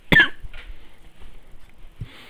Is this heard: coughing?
yes